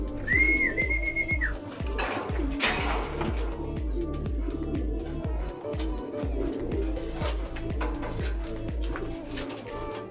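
Racing pigeons coo near a loft as birds come home during a derby race in Camarines Sur, with a brief whistle early on and faint background voices.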